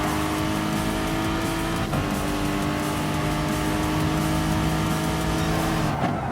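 A 2016 Super GT race car in Gran Turismo Sport: a loud, continuous high-revving engine roar with strong steady harmonics and brief tire squeal around two and six seconds, with no one talking.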